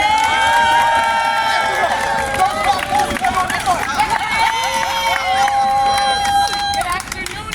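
A street rally crowd in East Harlem cheers and shouts excitedly, with many voices whooping over a busy, continuous background of noise that holds loud for several seconds before easing at the end.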